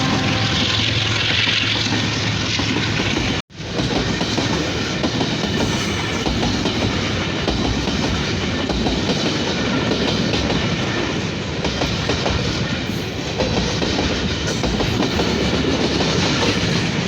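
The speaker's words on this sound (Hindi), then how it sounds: "ये क्या खत्म हो गई ट्रेन?" A train rolls past on the rails for the whole stretch, a loud, continuous rumble with rhythmic clickety-clack of wheels over joints, briefly broken by a sharp cut near the start, with no talk over it.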